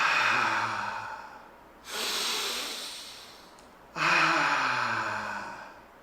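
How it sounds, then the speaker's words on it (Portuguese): Three deep, audible breaths in succession as a relaxation exercise, each a long airy rush of air that swells and then slowly fades, close and clear with no talking. "combine isso com inspirações e expirações sucessivas"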